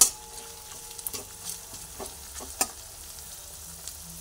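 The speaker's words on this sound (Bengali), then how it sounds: "রসুন দিয়ে রসুন পেঁয়াজ দুটোই একসঙ্গে ভেজে নিচ্ছি।" Garlic and onion frying together in a pan, a quiet hiss broken by a series of light, sharp scrapes and taps from stirring, spaced roughly every half second.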